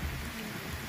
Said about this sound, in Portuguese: E a chuva começou agora.